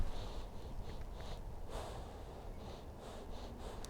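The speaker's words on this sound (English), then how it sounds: "You can see I'm rubbing it up my face and sort of deforming the snout there to get a really good sniff of it." A person sniffs a Garibaldi biscuit held up to the nose, a series of short nasal snorts and breathy inhales repeating close to the mic over a low background rumble.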